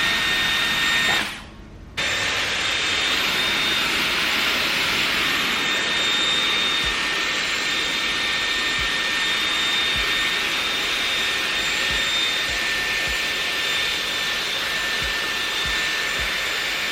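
A Dyson Air Wrap hair styler blows a steady, loud rush of air close by, switching briefly near the start when the cool blast setting is pressed, then running on continuously.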